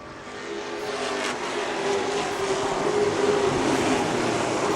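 Late model race cars racing on a track, a loud sustained engine roar that builds slightly as the pack passes, with a droning tonal whine under broadband noise and no talk.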